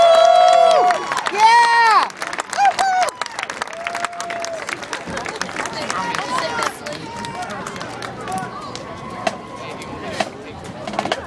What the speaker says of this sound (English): Comets, let's give them another round of applause.